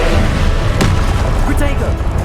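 A Confringo blasting spell from Hogwarts Legacy goes off as a loud, booming burst with a sharp crack in the middle. A steady roar of game combat noise surrounds it, and a voice is faintly present.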